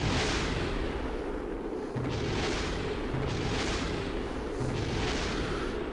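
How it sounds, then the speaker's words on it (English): Spacecraft parts blow apart in Kerbal Space Program, a string of rumbling booming explosions that come roughly every second, each a low burst with a hissing tail, fairly quiet and without talk. "But a lot of my stuff is exploding right now."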